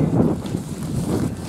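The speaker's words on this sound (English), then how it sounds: "It's also wind right now, so that's making it even harder." Gusty wind buffets the microphone outdoors at Tule Springs Fossil Beds, a steady low rumble that swells and eases over a second and a half, with no voices.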